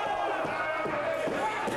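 A wrestling crowd roars on its feet, a continuous loud wash of cheering and shouting with a few thuds cutting through, close and filling the whole moment.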